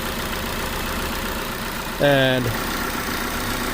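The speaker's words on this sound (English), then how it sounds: "seems to be idling pretty smooth" A Dodge Neon 2.0 SOHC engine idles steadily at close range, a low even hum under a brief spoken word, with a short tonal beep cutting in midway.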